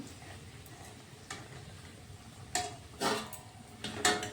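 Crispy Bengali potato-vegetable chops sizzle as they are slid into hot oil, with a steady low crackle that swells into several loud hissing bursts near the end.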